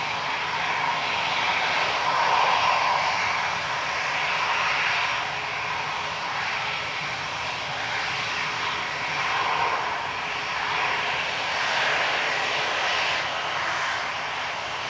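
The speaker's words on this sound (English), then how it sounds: "EasyJet 2015 to Alicante next, GZWH A320 Classic." A steady, fairly loud roar from the jet engines of an easyJet Airbus A320 Classic at Manchester Airport, swelling and easing gently across the whole stretch with no one talking.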